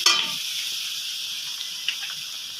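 Soy sauce and split chillies hit a hot pan and sizzle with a sharp hiss at first, which settles into a steady close frying crackle.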